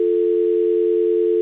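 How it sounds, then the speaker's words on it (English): A telephone dial tone after a call is hung up, a steady unbroken electronic hum at constant loudness, with no other sound. "sadly, Homeboy's dad hung up on him once he found out that"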